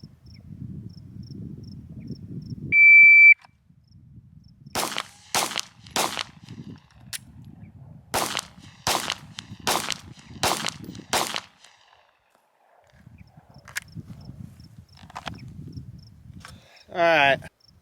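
Eight rapid pistol shots in a cold-start shooting drill, sharp loud cracks in an uneven quick series amid quiet outdoor ambience with insects, preceded by a beep from a shot timer.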